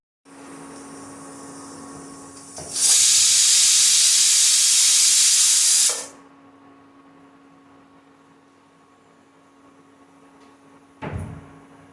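A pressure cooker on an induction stove, cooking boiled rice ganji, lets out a loud, sharp steam whistle that rushes steadily for about three seconds and then cuts off, leaving a quiet hum and a brief clunk afterward.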